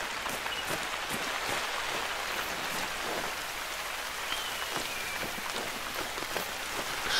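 Rain falling in the hunting video game Hunter: Call of the Wild, a steady dense patter of drops hitting surfaces, continuous and fairly close, with no talk.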